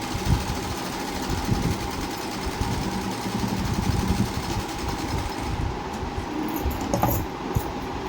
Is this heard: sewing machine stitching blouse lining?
yes